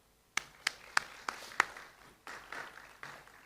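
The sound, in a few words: audience round of applause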